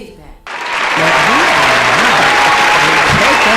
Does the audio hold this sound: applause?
yes